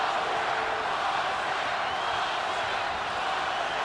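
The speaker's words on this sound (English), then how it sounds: "Crowd is chanting, Oscar," Boxing arena crowd at Oscar de la Hoya vs. Bernard Hopkins in 2004, a dense steady roar of many voices chanting for Oscar, heard as a continuous wash of noise without distinct words.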